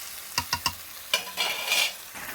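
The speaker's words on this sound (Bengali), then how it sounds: "আমি চিকেনটা কষাতে থাকবো" Chicken stir-fried in a pan for a red chicken kosha, with a few sharp spatula taps, then bursts of loud sizzling as the pieces are turned.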